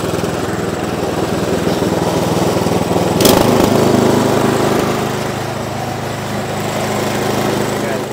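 A Toro snowblower engine runs steadily at increased throttle during maintenance, a loud close buzzing drone with a brief clunk midway and a slight shift in pitch afterward.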